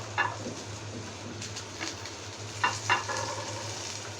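Chopped onions hit a very hot pan for gola kabab, giving a steady sizzling fry with a low hum beneath and a few brief stirring clatters at close range.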